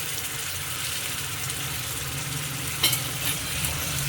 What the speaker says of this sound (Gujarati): મસાલો મિક્સ થઈ ગયો.